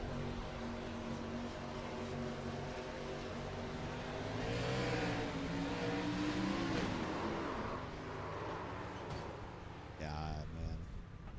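Race cars in a SIM500 Xfinity Series video game race at Homestead rev and whine continuously, engine pitch rising and falling as cars accelerate and pass, with a steady loud drone under faint background voices.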